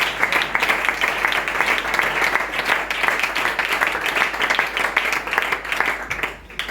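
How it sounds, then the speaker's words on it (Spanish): Church congregation applauding after a Bible reading, a dense, steady wash of many hands clapping close by for most of the stretch, easing off slightly at the very end. "Fuerte el aplauso a la palabra de Dios."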